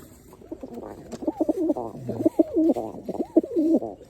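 Wild pigeons on a rooftop coo in repeated rolling phrases, close and clear against a quiet background, with no talk.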